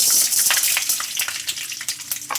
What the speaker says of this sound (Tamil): மரவள்ளி கிழங்கு தாளிச்சிடலாம் கடுகு கடலப்பருப்பு